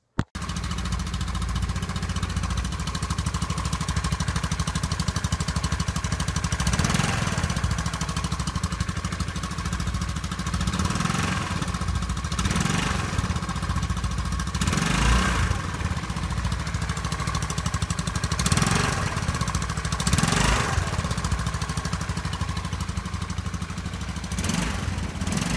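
A motorcycle with a worn exhaust gasket idles close and loud in a steady, unbroken drone, with periodic louder puffs and surges.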